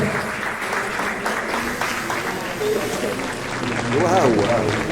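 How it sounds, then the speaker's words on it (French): Audience applause at an arts and culture gala in Marrakech, steady clapping mixed with a voice speaking over it and some background chatter. "On va l'applaudir très fort."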